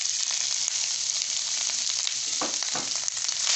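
Minced meat with chili flakes, cooked onions, garlic and ginger fries in a pan for samosa filling, giving a loud, dense, continuous sizzle, with a couple of stirring scrapes toward the end.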